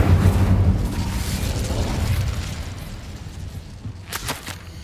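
An Incendio fire spell cast in Hogwarts Legacy bursts with a loud boom that rumbles and fades, followed moments later by a brief sharp crackling flare.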